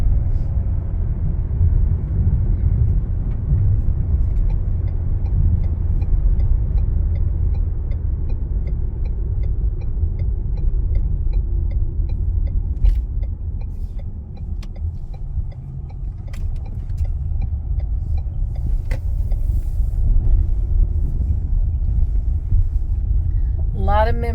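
A car rolls along a country road to a house, its engine and tyre rumble low and steady throughout, with occasional light clicks inside the cabin.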